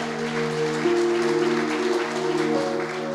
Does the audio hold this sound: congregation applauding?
yes